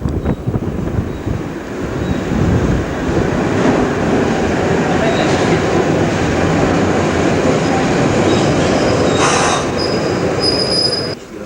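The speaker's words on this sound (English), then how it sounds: "we made a quick trip by tram across to the other side of the river" A vintage tram rumbles steadily along rails in Budapest, with a constant low roar and brief metallic squeals and clicks near the end.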